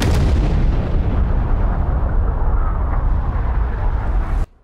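Heavy explosions from the film Godzilla Minus One form a loud, continuous booming roar with crackling debris, which cuts off abruptly at the end.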